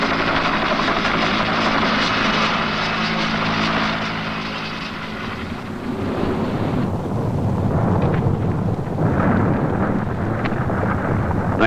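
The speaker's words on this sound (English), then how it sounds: "the Iceland Coast Guard helicopter that skirts them in minutes" An Iceland Coast Guard helicopter's loud, steady rotor and engine roar fills the scene, dipping slightly midway then swelling again as it passes close by.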